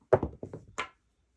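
Craps dice are thrown onto the table, landing with a quick cluster of hollow knocks and clattering taps as they bounce and tumble to a stop in under a second.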